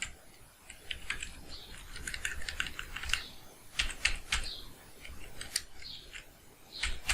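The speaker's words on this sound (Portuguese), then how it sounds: "abre aspas, digitando a palavra Barbosa" Rapid clicking keystrokes on a computer keyboard while entering text in Python code, close and fairly quiet, coming in uneven bursts with brief pauses and no talking.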